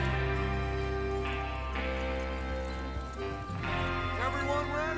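Horses clip-clop at a trot in the video game Red Dead Redemption 2, their hooves steady and rhythmic under game music, with a whinny and voices talking over the scene.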